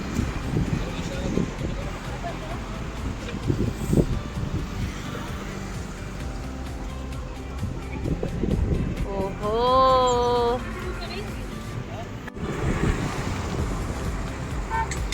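Traffic on a fog-covered mountain ghat road on the Mumbai–Pune route, a steady muffled roar of passing vehicles and wind with a brief wavering horn or siren midway, heard from a distance.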